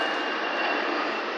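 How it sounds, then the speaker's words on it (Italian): An airplane taking off from Florence airport gives a steady, broad, rushing engine roar that holds constant throughout. "l'aereo che è decollato adesso dall'aeroporto di Firenze"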